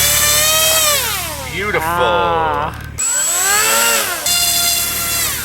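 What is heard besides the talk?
model airplane motor spinning balanced propeller at the field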